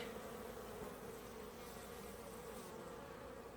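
Steady droning hum of many bees buzzing together at hives in a forest in early spring, continuous and close, with no voices.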